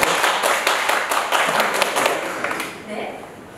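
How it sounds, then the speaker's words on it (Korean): Audience applause welcoming a professor to a book-salon lecture on reading therapy for grief, a burst of brisk clapping that fades toward the end. "박수 한번 주세요."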